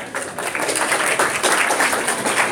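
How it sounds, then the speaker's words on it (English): Sustained clapping from a group, a dense steady patter of applause lasting throughout at moderate loudness. "do I get a round of applause now?"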